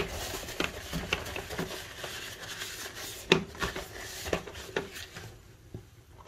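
A napkin soaked in sunflower oil rubs over a mould, making soft, irregular scraping and swishing strokes with light taps, close and steady for several seconds.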